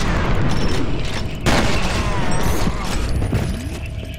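Heavy shotgun blasts in the shooter game F.E.A.R. boom and crack amid a dense, noisy firefight, with a sharp loud report near the middle and ongoing clatter around it.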